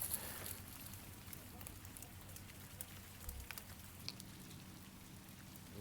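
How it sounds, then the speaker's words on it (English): Hail falling outdoors on New Year's Day, a steady dense patter of small ice pellets striking surfaces, with soft broadband hiss throughout and occasional sharper ticks. "There's that snow or whatever that they told us we were gonna get. It's hail."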